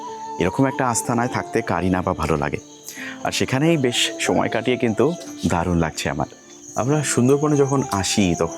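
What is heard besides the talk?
crickets chirping at night in the Sundarbans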